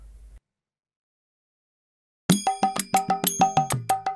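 A phone rings with repeated bright, bell-like tones in quick pulses, loud and close. Near-silence comes first, and the ringing then carries on alone to the end.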